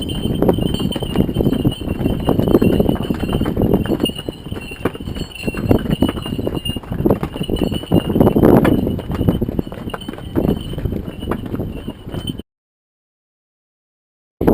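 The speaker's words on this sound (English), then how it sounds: "Comes some donkeys." Donkey hooves clip-clop steadily on hard ground in Santorini, Greece, for several seconds, a continuous walking rhythm nearby, then the sound cuts out abruptly.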